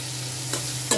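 Spices with chili powder fry in a pan, with a steady sizzle and brief scraping stirs, close and alone without speech.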